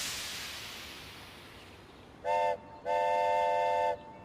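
A grain train in the city-builder video game Kapital gives a faint rolling rumble, then two clear whistle blasts, one short and one long, in a quiet game setting.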